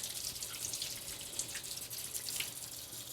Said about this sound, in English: Now we're going to rinse our hands.